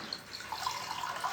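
Water running from a tap, a steady hiss of flow with faint splashing and dripping close by, no voices.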